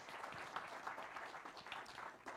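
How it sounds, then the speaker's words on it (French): Audience applause at the Festival Napoleon awards ceremony, a steady wash of many hands clapping together, continuous and fairly even throughout with small swells. "Je vous demande d'applaudir très fort Monsieur Christian Clavier"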